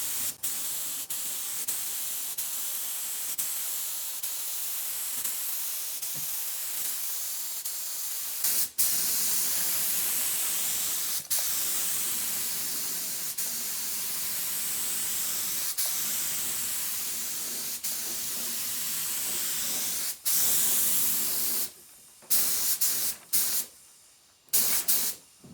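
A paint spray gun hisses steadily while coating a bombe-style chest during a furniture makeover, one long continuous spray, then several short bursts with pauses near the end.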